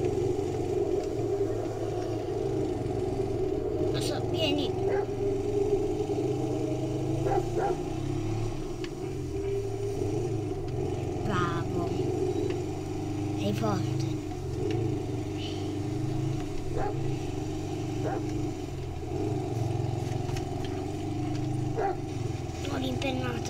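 Motorcycle engine in GTA 5 droning steadily while a dog barks now and then, with someone talking over the game sound throughout.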